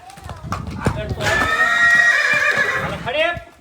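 A mare gives a loud, drawn-out whinny close by, with a few hoof clops before it. The neigh rises and wavers for about two seconds, then fades.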